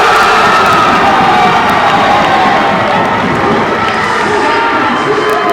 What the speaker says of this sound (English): Good St. Francis crowd tonight trying to cheer their school on to the NAIA tournament